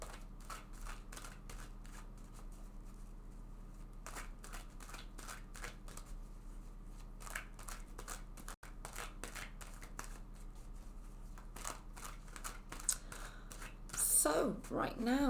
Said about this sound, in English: So let's shuffle this deck first of all several times.